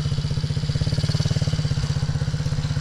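Small MRF 80cc motorcycle engine revving steadily under gentle throttle, a fast even putter with a slight rattle, close and fairly loud with no talk.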